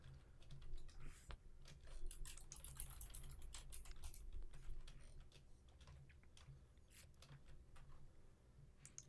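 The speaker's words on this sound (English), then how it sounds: "I'm like typing out my stuff in Notepad so I can copy it in the future" Computer keyboard typing in Notepad: quiet, irregular clusters of plastic key clicks close to the microphone, faster bursts near the start, over a low room hum.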